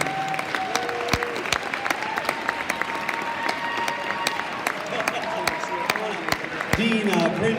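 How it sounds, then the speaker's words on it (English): An audience claps steadily and warmly, a dense continuous applause with sharp individual claps standing out, while a voice speaks over it. "Give one last round of applause."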